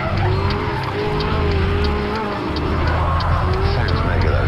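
A Ferrari with a 570 horsepower engine accelerates hard around a track lap, a loud sustained engine drone with rising tonal harmonics and some tire noise, a voice talking over it.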